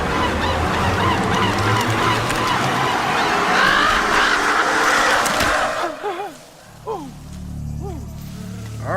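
A crow calls in an animated horror story. Loud, harsh, honking cries sit over a dense, noisy backdrop, then a few separate rising calls ring out more clearly near the end.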